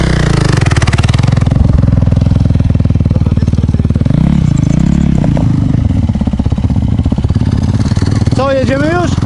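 A 450 motorcycle engine runs loud and close with a steady buzzing putter, its pitch wavering as the throttle is blipped while the bike moves off.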